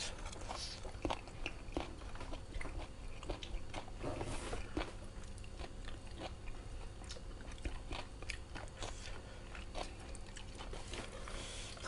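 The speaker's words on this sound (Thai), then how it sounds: "หนังวัวก็จะกรุบกับกรุบกับ" Crunchy cow skin in a Thai Siamese cassia leaf curry being bitten and chewed up close, with repeated crisp crunches and wet mastication sounds in an irregular rhythm throughout.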